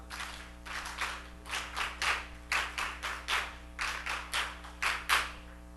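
A youth retreat group claps together in a counted stepped rhythm, roughly a dozen sharp bursts at a steady pace over a low steady hum, with no talking.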